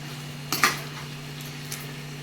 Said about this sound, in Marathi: आणि आता आपण ह्याच्यावर दही टाकून घेऊया आणि मीडियम गॅसवरच हे व्यवस्थित मिक्स करून घेऊया